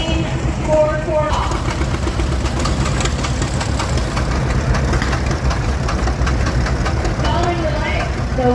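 A 1957 Minneapolis Moline 440 tractor at a Minnesota threshing show runs with a steady, loud, low knocking chug, with a voice speaking over the engine throughout.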